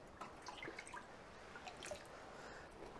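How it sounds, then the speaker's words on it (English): Water poured from a jug through a garden sieve onto seagrass seeds, trickling and dripping into a bucket below, soft and close with scattered splashy drops. "And then you're just pouring the water over it to rinse the seeds through the seagrass into the bucket."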